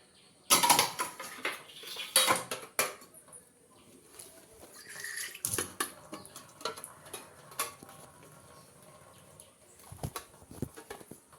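Rice being packed into lunch containers for four people in a home kitchen on a morning, with sharp clinks and taps of steel dishes and spoons in scattered bursts, some close and loud, between quieter stretches.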